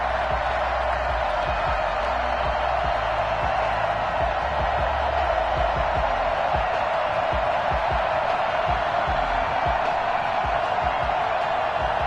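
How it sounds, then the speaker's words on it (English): A large NFL stadium crowd roars continuously before a Tampa Bay Buccaneers versus Atlanta Falcons game, a dense, steady wash of cheering that stays at an even level throughout. "This crowd is ready as their guys get set to match up between the Tampa Bay Buccaneers and the Atlanta Falcons."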